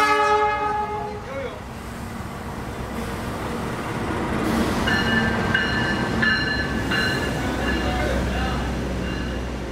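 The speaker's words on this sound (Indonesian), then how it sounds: "Yang baru saja masuk di jalur nomor 1 ini adalah kereta api Sancaka, kereta Patas Jogja-Surabaya" Sancaka express, an Indonesian Jogja–Surabaya train, rolls into platform 1 with a steady rumble of wheels and carriages, and high horn or whistle tones sound over the noise from the middle of the clip onward. Voices are heard faintly in the background.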